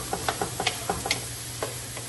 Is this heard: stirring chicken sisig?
yes